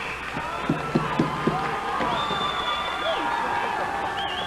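Crowd cheering and clamoring in a gym at a 1988 high school wrestling match, Hopkins vs Mound-Westonka, with a few sharp thumps early on and a whistle-like tone rising above the roar.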